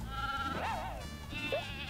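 Sheep bleating in the video game Croc: two wavering, nasal bleats, the first long and the second shorter, over a steady game background.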